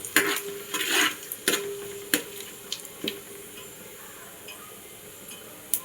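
Bagara leaves dropped into hot oil, a soft sizzle under a few sharp metallic clinks and spoon stirs, close and fairly quiet, fading to a faint steady hiss.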